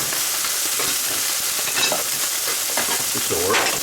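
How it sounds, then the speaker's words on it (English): Enchilada sauce simmers and sizzles in a pan while being stirred, a steady close hiss with soft scraping and a few light utensil clinks, no voices. "give that a little stir"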